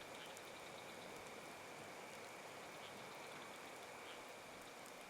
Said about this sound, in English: It's heavy rain.